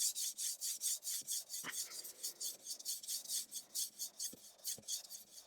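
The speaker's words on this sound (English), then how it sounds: "So what we're essentially doing here is just smoothing the back of this out now through the grits" Steel plane blade back rubbed on a sharpening stone in steady rhythmic strokes, a close, dry rasping scrape repeating about three times a second with no talk.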